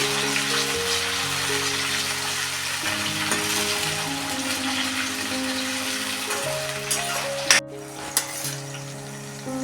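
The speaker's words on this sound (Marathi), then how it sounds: "मी हे टॅमॅटो टाकते चांगला मी मस्त परतून घेते" Tomatoes sautéing in plenty of oil in a pan for a spicy fresh toor dal amti, a steady close sizzle running throughout beneath background music, with a few brief clinks near the end.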